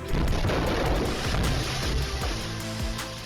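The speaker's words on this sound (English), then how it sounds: "He left the tire inflating with no one watching. When it popped, it sounded like a bomb." An overinflated tire left on the air line bursts with a loud bang, a heavy, rumbling blast that fills the space and rolls on with booming echoes and debris noise for several seconds.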